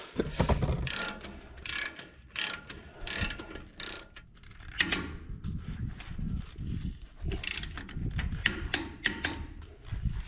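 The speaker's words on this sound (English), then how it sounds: "I want you to torque this down to 50 foot-pounds" A ratchet torques a ball joint on a Ford Dana 60 axle in repeated bursts of close, crisp clicking, each run of rapid pawl clicks separated by brief pauses, with no talk.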